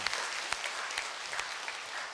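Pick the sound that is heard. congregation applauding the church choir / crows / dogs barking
congregation applauding the church choir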